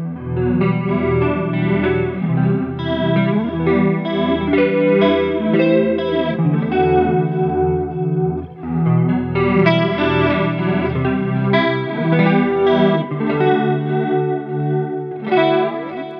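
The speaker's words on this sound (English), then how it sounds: "Let's try the jet flanger." Jet flanger preset on a Plethora X5 multi-effects guitar pedal sweeps over a continuous played electric guitar passage, loud and close, with a brief dip in the middle and no talking.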